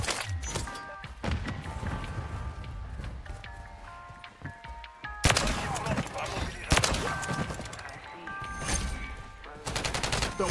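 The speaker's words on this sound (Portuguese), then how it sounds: "Estão atirando em mim." Video game gunfire sounds in dense bursts of sharp shots and rapid automatic fire, loud and continuous, with a player talking over it.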